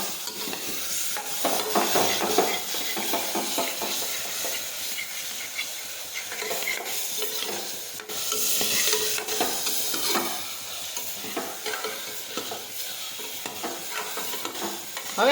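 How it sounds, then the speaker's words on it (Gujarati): Spices, salt and sugar are stirred into bottle gourd curry in a pan, with a spoon scraping repeatedly over a steady sizzle and hiss for the whole stretch, and no talking. "હવે આપણે બધા મસાલા છે તે મિક્સ કરી દઈશું આ રીતે."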